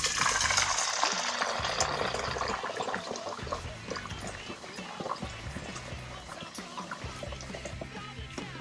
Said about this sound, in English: Okay, so the water's all boiled now, so I'm just going to pour it into the bowl.